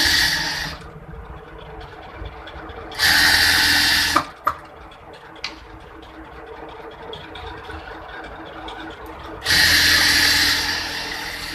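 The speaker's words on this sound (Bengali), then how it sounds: "এই যে দেখেন আমি কি সুন্দর ইজিভাবে রাবারটা সেলাই করে ফেলতেছি।" A sewing machine stitches elastic onto the waistband of a pant or salwar, running in three loud bursts with quieter handling noises in between.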